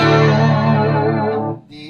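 An electric guitar chord rings out through a Roland Jazz Chorus amp with its chorus effect, a thick shimmering sustained tone that holds for about a second and a half before cutting off, followed by a brief faint high ring.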